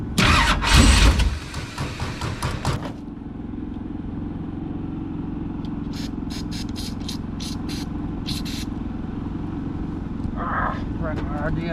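A dirt late model race car engine turns over after brief shouting nearby, then settles into a loud, steady close-up idle with sharp clicks and rattles over it.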